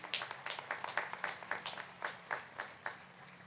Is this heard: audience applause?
yes